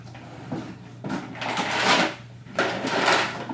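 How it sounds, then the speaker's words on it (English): The lid of a muzzleloader kit box is closed and then opened, giving several close hollow knocks and scraping clunks from the case, with no voices. "You can close the top lid and then you can open this box up."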